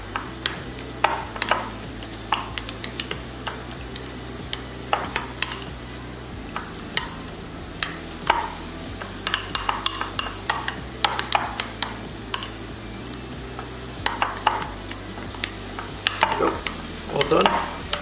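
A spoon stirs and scrapes around a bowl while mixing sauce for Moroccan chicken, with repeated light clinks and a soft continuous swishing under a faint background hum.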